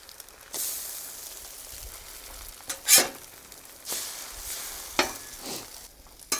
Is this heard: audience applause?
no